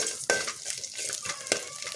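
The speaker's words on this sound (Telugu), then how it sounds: "1/2 చెంచా మెంతులు, 1/2 చెంచా జీలకర్ర, ఒక చిన్న కుడక ముక్క, సగం కుడక ముక్క అన్నీ నూనె పోసి గంజులో వేపుతాను." Fenugreek seeds, cumin and a piece of dry coconut fry in oil in a pan, giving a close, steady sizzle with sharp spatula scrapes and stirring strokes.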